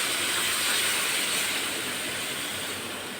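Tilapia fish frying in a pan as water is poured in, giving a loud, steady broadband hiss of sizzling and steam that fades slightly toward the end, with no voices.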